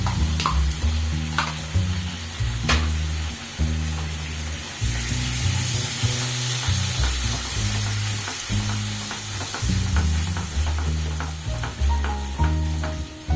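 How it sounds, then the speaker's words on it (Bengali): Whisked curd and spice masala are stirred and fried together in a pan for prawn curry, a continuous sizzle under a busy, rhythmic scraping of a spatula, close and steady throughout with no talking. "এবার সব একসঙ্গে ভালো করে নাড়াচাড়া করবো, কষিয়ে নেবো একটু"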